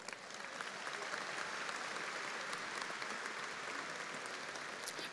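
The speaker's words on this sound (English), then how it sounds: "Please honor these graduates with a round of applause." An audience at an Angelo State University commencement ceremony applauds graduates, a dense, steady roar of clapping from many hands that fills the whole stretch at a moderate distance.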